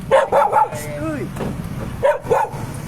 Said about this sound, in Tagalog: May aso pare.